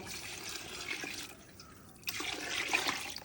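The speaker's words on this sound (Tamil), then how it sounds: "மூணு கப்பு ஜீரக சம்பா அரிசி மூணு கப்பு எடுத்தேன் அதுக்கு வந்து நாலரை கப்பு தண்ணி சேர்க்குறேன்" Water is poured into a pot of cumin samba rice, a soft continuous splashing and trickling that briefly eases, then swells louder and fuller for the last second, heard close with no talk.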